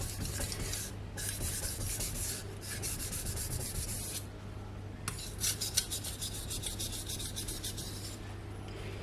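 A kitchen knife edge is rubbed back and forth on a soaked Naniwa whetstone, a quiet raspy scraping in repeated strokes that pause briefly now and then, heard up close with no voices.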